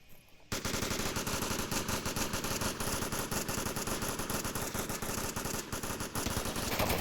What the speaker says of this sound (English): Shots coming out from Lone Miyagi